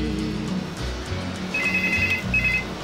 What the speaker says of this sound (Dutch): Tijdens de siesta rinkelt de telefoon.